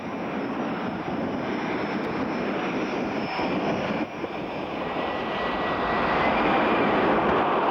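A jet-engine dragster's powerful engine roars continuously at a drag race, loud and steady with a broad rushing tone that swells slightly toward the end; no voices.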